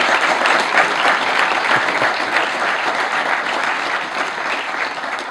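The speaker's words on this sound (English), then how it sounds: "Let's give her another round of applause" Sustained applause from an audience at the 2012 All Bahamian Awards ceremony, a dense, steady wash of clapping that holds throughout and eases slightly near the end.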